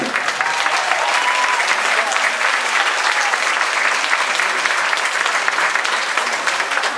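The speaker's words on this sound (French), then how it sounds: "Applaudissez-vous!" Loud, dense applause from a large crowd at an anniversary opening banquet in Saint-Michel-des-Saints, clapping steadily without a break for the whole stretch.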